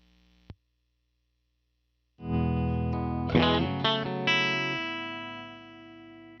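An electric guitar runs through a pedalboard with the effect on its low setting and the blend knob turned all the way up. After one brief pluck and a pause, loud distorted, chorus-thickened chords ring out and sustain, with a few restruck notes.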